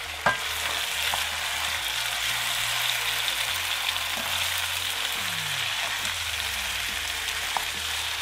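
Carrots and peppers fry in a pan for rice pilaf with beef, giving a steady broadband sizzle with scattered scraping and clinks from stirring throughout.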